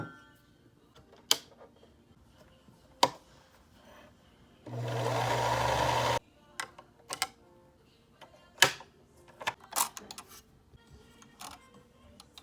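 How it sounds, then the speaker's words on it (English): A sewing machine runs in one steady burst of about a second and a half, stitching the outer bodice pieces of a fabric tote bag being remade into a crop top. Scattered clicks and handling noises come before and after. "I put all the right sides together of the outer bodice and I sewed them"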